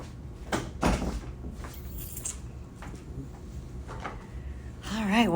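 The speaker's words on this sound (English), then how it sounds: "I'm going to shut my door." An office door is pushed shut by hand, giving a couple of close, solid thuds and rattles amid room noise, with a brief faint voice nearby.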